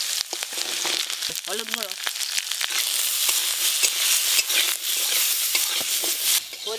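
Cut eggplant and lightly fried potatoes crackle and sizzle steadily in hot oil in a village kitchen, with loud continuous frying and occasional stirring scrapes, while a voice speaks briefly.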